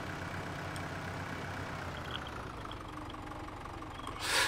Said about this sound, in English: I do like the way this thing revs up every time you do something like this.